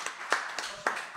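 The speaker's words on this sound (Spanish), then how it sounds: "Un aplauso para él" A few scattered hand claps for a presenter at a football club's new Kelme kit launch in Catalonia, sounding as four or five separate, fairly quiet claps in a small room rather than a full ovation.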